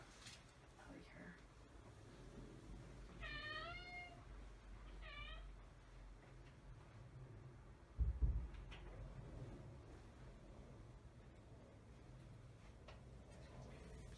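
A female house cat meows for food indoors, two clear rising meows in quick succession over a steady background hum, with a brief thump partway through.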